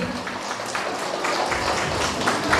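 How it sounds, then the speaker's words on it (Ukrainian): Wedding guests at a restaurant reception applaud the couple's first dance, a steady wash of many hands clapping together, fairly loud and continuous throughout with no distinct pauses. "під оплески всіх гостей"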